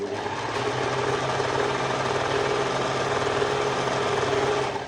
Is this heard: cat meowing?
no